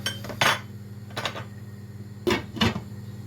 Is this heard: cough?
no